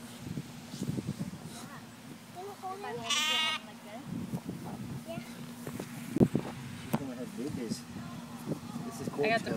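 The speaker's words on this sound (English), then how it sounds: "There are just goats around me." Goats bleating on a Texas ranch, several nearby calls rising over footsteps and movement, with people talking throughout.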